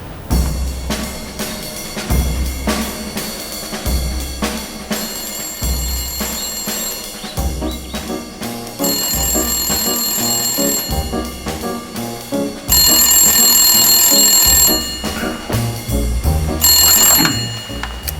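A telephone rings in repeated bursts during a cruise ship naming ceremony performance, loud and up front over a busy musical backing that continues throughout.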